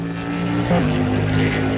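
A race car engine in Automobilista 2, heard from the chase camera, gives a loud, close, steady grunt with a brief rise in pitch partway through; there is no speech.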